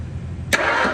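A 1968 Mustang's freshly installed engine cranks over on the starter, a sudden close mechanical whirr that begins partway in after a low hum and keeps going to the end.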